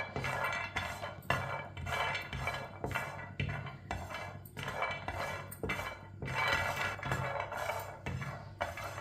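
A metal spoon scrapes and clinks against a pan while almonds are dry-roasted, giving close, repeated rhythmic strokes with a steady back-and-forth scraping over a low stove hum.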